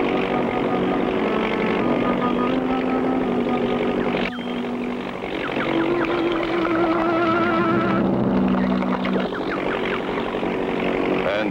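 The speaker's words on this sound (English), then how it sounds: "I hear their engine." An engine drones loudly and steadily in a cartoon soundtrack as a vehicle approaches, its pitch shifting slightly over about eleven seconds. Busy background music plays underneath it.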